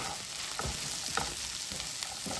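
Teriyaki chicken and broccoli sizzle steadily in a frying pan while being stirred, with a few soft scraping strokes over the constant close frying hiss.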